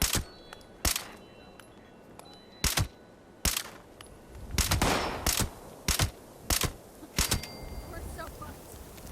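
Gunshots in Fallout 76 Wastelanders, a string of sharp, loud single cracks at irregular intervals, around a dozen in all, over a low background with a voice talking between them.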